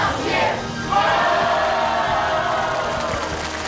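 An audience applauds at a TV awards ceremony, the 7th Golden Eagle Awards: a steady, dense wash of clapping and crowd noise that builds quickly and holds for several seconds.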